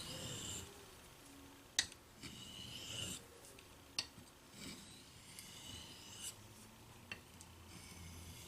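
Knife blade stroked across a very fine sharpening stone, quiet rasping passes repeating in a loose rhythm, with a few sharp little clicks between strokes.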